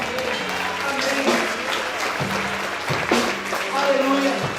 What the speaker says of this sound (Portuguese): A igreja pode aplaudir ao Senhor para cada vez